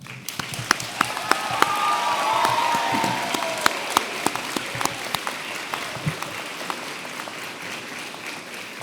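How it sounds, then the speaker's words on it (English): A large crowd at the 2019 Middle Georgia university commencement gives sustained applause, a thick continuous wash of clapping with a few whistles or cheers rising above it for several seconds. "join me in a round of applause to honor those who have helped you attain your goal of becoming a university graduate"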